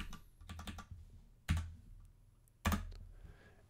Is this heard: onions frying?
no